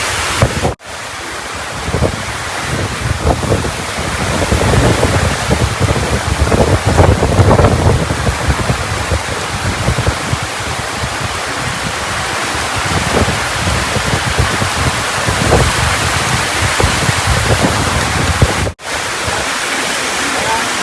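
Heavy rain and strong wind pour down at a religious boarding school compound, a loud continuous roaring wash with gusty rumble and wind buffeting across the microphone for the whole stretch.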